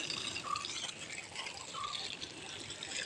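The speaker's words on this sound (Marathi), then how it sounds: "इकडे चांगला जास्त पाणी जोरात आला आहे" Water from a garden hose or pipe flows strongly into plant pots, a faint, steady trickling and splashing close by with small drips and no voices.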